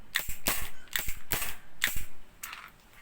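Airsoft pistol with weakened shot power firing four sharp pops at a steady pace, each a short crisp crack close by, with no talking.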